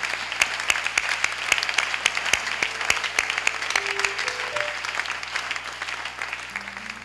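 A church congregation applauds in steady, dense clapping that carries on for several seconds, with a few faint held tones drifting underneath.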